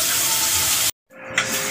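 Water runs and splashes steadily into a pressure cooker, cuts out briefly, then resumes pouring with a brief clink.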